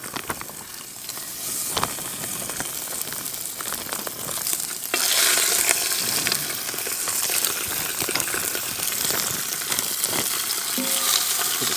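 Loud, steady sizzling of lamb shanks in a hot pan, crackling and spitting continuously, growing stronger partway through as more pieces go in.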